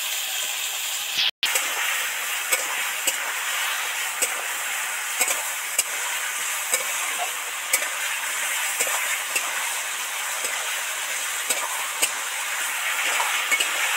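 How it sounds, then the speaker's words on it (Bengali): Spices deep-fry in oil in a pan for a bitter gourd and taro curry. The sizzle is loud, close and steady, with faint stirring scrapes scattered through it. No one speaks. "মশলাগুলো তো একদম ডিপ ফ্রাই করে ভাজা হয়ে গেছে, তেল ছেড়ে গেছে।"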